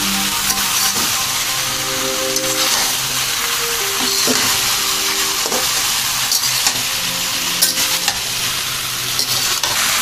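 Potatoes sizzle and crackle steadily as they fry in a pan, with repeated stirring scrapes throughout and faint tonal sounds in the background.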